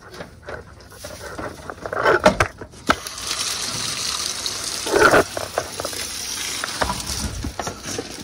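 A garden hose turned on full pours into a backyard pond, giving a steady close gush of running water. Louder splashy surges come and go, with a few short knocks and rustles mixed in.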